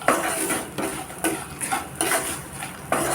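A spoon stirring a mixture for aval mixture, a flattened rice snack, with asafoetida in a pan: repeated metallic scrapes and clinks in short bursts, close and fairly loud, with no talk.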